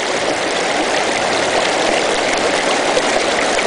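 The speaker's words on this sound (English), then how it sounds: "This model just works off of nothing but the natural creek flow." Natural creek water flowing through a prototype sluice box with a flared head and slight taper, a loud, steady rushing wash that continues without a break and has no talk over it.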